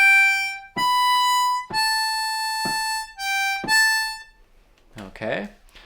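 A G harmonica plays the opening phrase of Auld Lang Syne as six clear, sustained reedy notes in a slow, even rhythm, close and solo, followed by a brief spoken remark.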